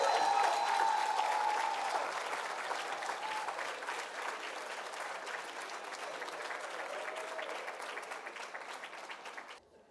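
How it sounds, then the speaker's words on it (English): An audience applauds at a government service excellence awards ceremony, sustained clapping from a large crowd that starts loud and slowly thins out over several seconds. "Keep your applause going, you know."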